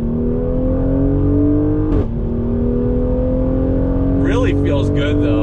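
Twin-turbo 2020 Mercedes AMG GLC 43 SUV accelerating, a loud steady engine drone with pitch rising gradually as it pulls, heard from inside the cabin with a brief click and some chirping near the end.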